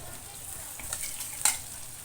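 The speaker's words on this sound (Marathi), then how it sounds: "ते बघा लसूण चांगला तेलामध्ये फ्राय करते" Garlic with a pinch of asafoetida frying in hot oil in a home kitchen pan, a soft steady sizzle with light stirring and one brief sharper crackle near the end.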